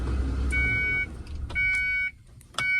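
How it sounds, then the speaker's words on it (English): A vehicle warning chime beeps in repeated electronic tones, three evenly spaced bursts over a low engine-like rumble close by, from a 1994 Ford F250 with a no-crank, no-start fault and the key off and removed. "I gotta figure out what that beeping sound is, because the key's like off and out."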